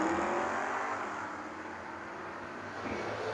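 Drag racing cars, a 1968 Dodge Dart and a 1964 Ford Fairlane, roar loudly at the strip, the engine sound dipping slightly and then swelling again over a few seconds.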